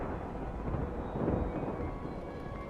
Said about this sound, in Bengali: কড়কড় করে বাজ পড়ল নিকটেই কোথাও।